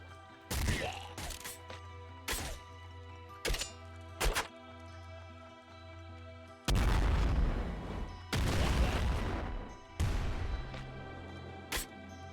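Nuke launcher blasts in the video game Nuclear Throne: several sharp booming thumps, then longer roaring explosion bursts, loud and close over a steady droning game soundtrack.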